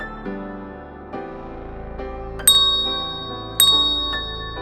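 Bright bell-like dings ring out in a short sequence, a few softer tones followed by two louder, sharper chimes near the end, each decaying with a sustained ringing tail, with no talking.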